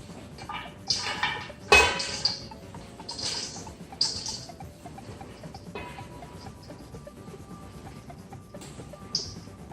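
Seasoned popcorn is tossed in a serving bowl, giving a few scattered light rustles and clattering bursts against a quiet background, with one sharper clatter early on.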